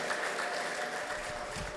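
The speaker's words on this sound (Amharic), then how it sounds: "ጭብጨባ ለጌታ ክብር።" Congregation clapping during a church worship service, a brief, steady burst of dense applause from many hands filling the room.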